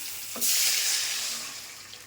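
Water rushes into a cooking pot holding mango and mustard seeds, a loud close pour that begins abruptly and then thins out gradually.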